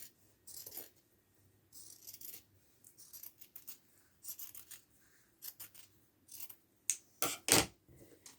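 Scissors cut through quilt fabric in a run of short, close snips and rasps, with a few sharper clicks near the end and no talking.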